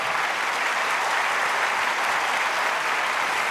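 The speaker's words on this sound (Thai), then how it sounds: "ขอเสียงปรบมือดังๆ ครับ" Studio audience applauding after a song in a televised singing competition battle round, a steady dense roar of clapping that fills the whole stretch with no talk over it.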